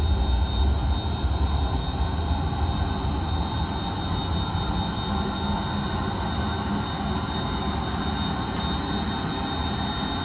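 Twin jet engines of an Embraer EMB500 Phenom 100 in a flight simulator run at takeoff power, a steady loud broadband roar with a low rumble that holds evenly throughout, with no talking.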